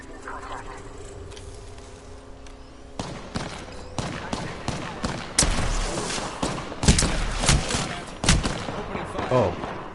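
Gunfire in the battle royale game Apex Legends, a burst of rapid shots and heavy impacts crowding the second half, loud and close, with a voice talking underneath.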